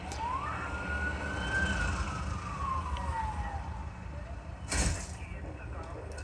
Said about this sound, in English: I want to hear police radio, police sirens, cars driving when it first starts